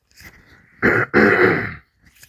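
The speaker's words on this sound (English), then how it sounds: "I was about to clear my throat again, but I'm gonna fight it" Two loud, harsh throat clearings in quick succession, close to the mic, the first short and the second longer and rasping, with softer breathy rustles before and after.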